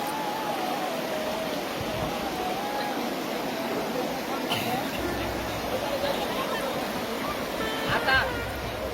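Water rushes and surges in waves at Sylhet's white stone river spot, a steady broad wash with a brief louder splash near the end. People chat faintly in the background.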